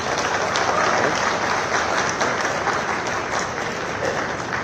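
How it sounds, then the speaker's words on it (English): A large audience claps throughout, a dense, steady wall of applause at close range with no voices over it, during a public stage event in India attended by the Defence Minister. "So don't clap for me, don't clap for them, clap for yourself."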